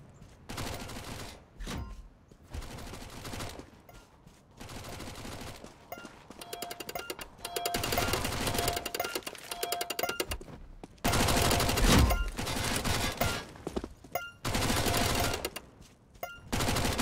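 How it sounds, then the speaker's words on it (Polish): Rapid bursts of automatic gunfire from an online shooter game, loud and dense fusillades with short pauses between volleys across the whole stretch. "Nie wiedzą skąd strzelam do nich."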